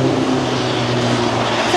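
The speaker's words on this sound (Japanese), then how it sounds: "車もバイクもめっちゃめっちゃめっちゃうるさいやん" Loud engine roar of passing cars and motorcycles in Waikiki street traffic at night, a steady low rumble with droning tones, close by and continuous.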